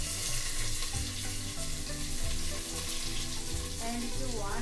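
Chopped onions sizzle in hot oil for one-pot sambar, a steady, close frying hiss running throughout with faint clinks and a brief rising tone near the end.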